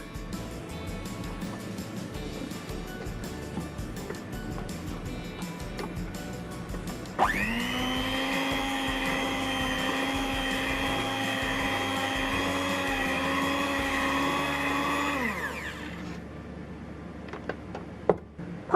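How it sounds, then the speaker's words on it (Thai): An electric mixer beats banana cake batter, switching on abruptly and running at a steady whine for about eight seconds before cutting off, loud and close, with kitchen clatter before and after. "ตีจนส่วนผสมพอเข้ากันแล้วนะคะ"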